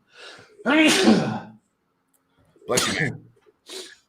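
A person sneezes loudly and close by, with a sharp inhale before it, followed by short bursts of voices reacting.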